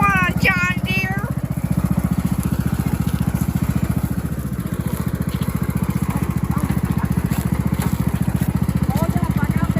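A John Deere riding lawn mower runs off-road with a steady, loud, chugging engine drone throughout, and a voice is heard briefly near the start over the engine.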